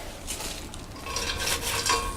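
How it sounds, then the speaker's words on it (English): Chopped apple and cabbage tumble into a hot cooking pan with cinnamon, giving a soft rustle and stirring sizzle, close and steady, with no voices. "I'll drop my apple in, my cabbage"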